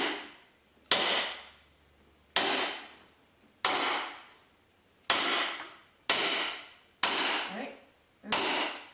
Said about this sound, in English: the bigger hammer, Rita's going to guide me down. So as I'm swinging